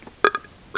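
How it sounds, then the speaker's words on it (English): A person playing Warzone lets out a short, close burp: one loud throaty burst followed quickly by a smaller second gulp, alone in a quiet moment. "I think I'm gonna have to burp again."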